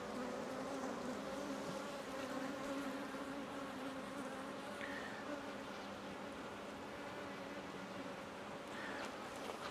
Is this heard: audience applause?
no